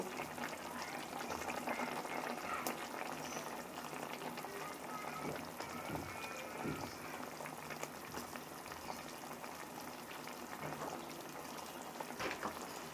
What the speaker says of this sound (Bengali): এখন আমরা হলুদ মরিচ মেখে রাখা চাপিলা মাছগুলো দিয়ে দিব